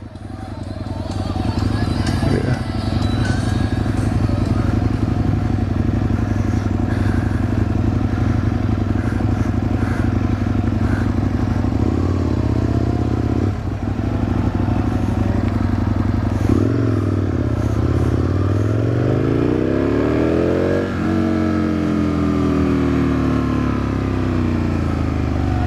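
Motorcycles at a bike night, a loud continuous engine rumble close by with revs rising and falling, under steady talk.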